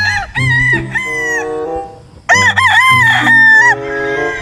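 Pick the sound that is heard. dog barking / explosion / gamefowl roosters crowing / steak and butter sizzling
gamefowl roosters crowing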